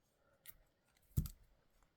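Scissors snip a crochet yarn tail once, a single sharp close cut after a faint earlier click, alone in a quiet room.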